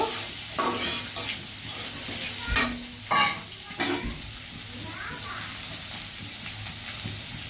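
Fried egg being stir-fried into vegetables in a pan for noodles, a steady sizzle broken by several loud scraping stirs and clanks of a spatula, no talking.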